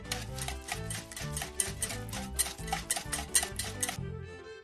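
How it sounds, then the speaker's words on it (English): Cartoon-style stirring of a flour and salt batter in a bowl: quick rhythmic scraping strokes repeating over a bright musical backing, fairly loud, with no talking. "One more stir to mix it all up."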